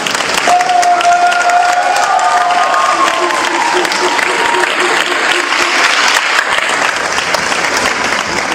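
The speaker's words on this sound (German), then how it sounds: "ein herzlichen Applaus für unsere Jury, für die Teilnehmer" Audience applause at the Nipponcon 2016 cosplay competition in Bremen, honoring the jury and participants; dense, loud clapping with some cheering from a large crowd fills the whole stretch, steady from start to finish.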